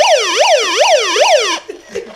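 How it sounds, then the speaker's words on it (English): A loud electronic megaphone siren wails in rising and falling sweeps, three cycles in quick succession, then cuts off abruptly, leaving faint background noise. "Hey, make it do the siren."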